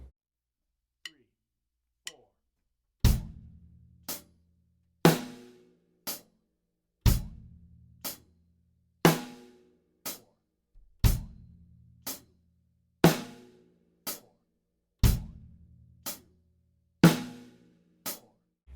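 Slow quarter-note drum beat on a kit, hi-hat on every beat with bass drum and snare alternating beneath, preceded by a few soft count-in clicks; steady, spacious hits with ringing decay, played alone.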